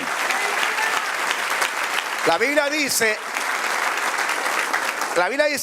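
A church congregation's applause fills the room, thick and continuous, while a preacher's voice breaks in twice over the clapping.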